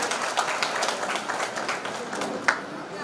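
Continuous applause and clapping from a gathered crowd at a Mahar Regiment 83rd anniversary ceremony in Chikhli, honouring participants, steady and dense throughout with one sharper clap near the end.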